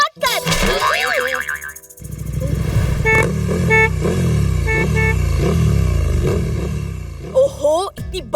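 Cartoon city traffic jam in the rain, with engines droning, several short honking car horns and springy boing effects, busy and close throughout with a voice briefly heard.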